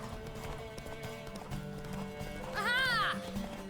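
A horse gallops in The Witcher 3 with a steady clip-clop of hooves, and a brief whinny rises near the end over the game's background sound.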